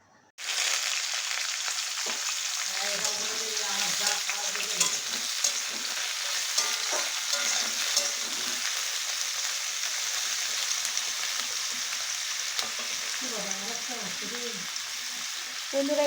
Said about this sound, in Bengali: এই কচুরলতিগুলো এবার আমি তেলে ফ্রাই